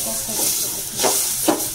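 Spices frying and being stirred in a pan for a papaya chicken curry, a steady close sizzle with two brief louder bursts of hiss as the mixture is turned.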